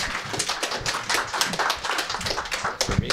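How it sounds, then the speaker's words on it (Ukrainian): An audience applauds inside a church service, a dense run of hand claps at moderate loudness that continues throughout, with a few sharper individual claps near the end. "I'm guessing that clapping was not for me."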